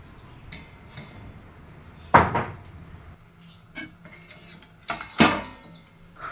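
A plate set down as a lid over a pan of paddu gives two sharp clinking clatters of metal and crockery, close and loud, with no talking.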